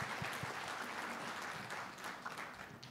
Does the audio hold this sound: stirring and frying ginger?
no